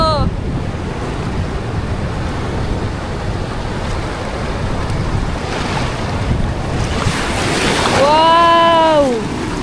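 Strong sea waves surging on the shore, a continuous roar of surf with heavy wind buffeting the microphone, and a brief voice near the end.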